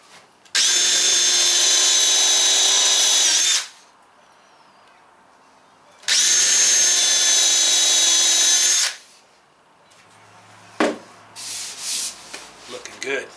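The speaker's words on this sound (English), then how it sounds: "Now we'll get those pre-drilled from the outside." A power drill pre-drills holes in a wooden storage shelf for a teardrop trailer, sounding two loud, close bursts of whining drilling about three seconds each, followed by a clunk and softer handling noises.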